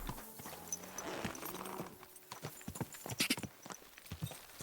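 A horse's hooves clip-clop in Kingdom Come: Deliverance II, slow and irregular at first, then sharper and more distinct as the steps go on. The clopping is fairly quiet, with soft ambient sound underneath.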